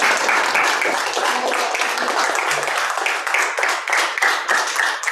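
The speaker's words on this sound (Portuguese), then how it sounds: "Você pode dar um aplauso ao Senhor?" A church congregation applauding during a celebration service, a full, continuous wash of many hands clapping at once, with faint voices mixed underneath.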